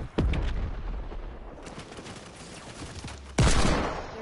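Gunfire in a PS4 shooter video game: a burst of rapid shots up front, a quieter stretch, then another loud volley near the end, with no voices over it.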